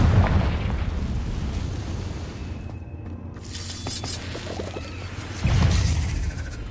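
A Confringo spell blast in a video game bursts with a loud broadband boom, then a second rumbling explosion surges a few seconds later over continuous low rumble.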